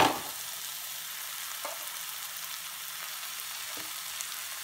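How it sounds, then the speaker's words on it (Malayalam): Tomatoes and onions sautéing with masala in a pan for an iftar pathiri dish give a steady soft frying hiss throughout, with a couple of faint stirring clicks and no talk. "അപ്പോൾ നമ്മുടെ തക്കാളിയും ഉള്ളിയും ഒക്കെ നന്നായിട്ടൊന്ന് വഴന്ന് വന്നിട്ടുണ്ട്"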